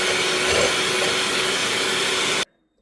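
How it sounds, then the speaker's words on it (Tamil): An electric mixer whips egg whites for a chocolate cake, a steady loud whirring hum with a faint constant whine that runs evenly for over two seconds and then cuts off abruptly into silence. "இப்போ இந்த வெள்ளைக்கருவை நான் அடிச்செடுக்கிறேன்."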